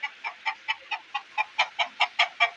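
Chickens at a poultry shop clucking in a steady series of about a dozen short, evenly spaced calls, fairly close and clear with no voices.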